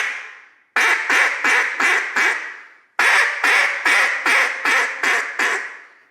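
A duck call blown hard in two series of quacks, five loud raspy notes then six more after a brief pause, close and alone with no other sound.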